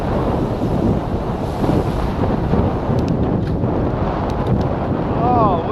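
Wind buffets the microphone outdoors in a continuous low roar with gusty swells. The rumble stays heavy throughout the stretch.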